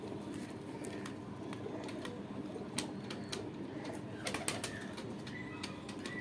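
Rampuri pigeons cooing softly with occasional wing flutters and light clicks, all set against a steady, fairly loud background hiss.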